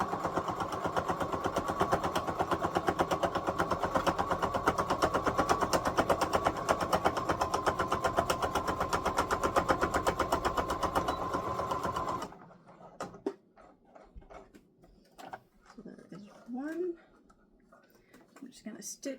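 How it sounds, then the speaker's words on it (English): A sewing machine runs steadily for about twelve seconds as it back stitches fabric, a dense rapid mechanical chatter, then stops, leaving quiet handling sounds and faint voice. "do a little bit of back stitching at the start and at the end"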